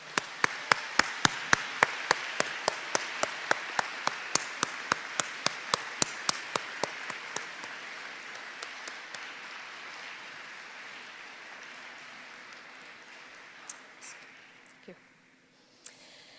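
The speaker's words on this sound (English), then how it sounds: "convey your thanks to family and friends through a warm round of applause" Broad applause from a large university convocation crowd swells and holds for several seconds, then thins out and fades, with a few scattered sharp claps and noises afterward.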